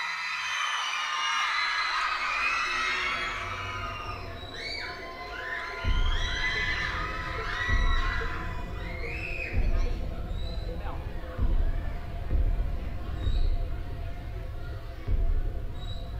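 A concert crowd at a Thai pop show screams and cheers to welcome the singer, shrill massed voices swelling and surging in loud waves throughout.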